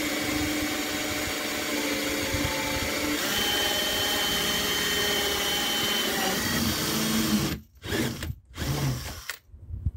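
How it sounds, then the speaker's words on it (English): A power drill whines steadily for several seconds, then stops and starts in a few short bursts, close and loud, drilling a transport box for a 5-inch gauge model diesel locomotive. "I can drill from outside to in"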